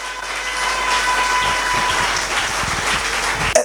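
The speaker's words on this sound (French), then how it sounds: "Est-ce qu'on peut acclamer pour Golgotha?" A church congregation bursts into sustained applause and cheering during a sermon, a dense, loud wash of clapping and voices that holds steady, ending in a sharp thump.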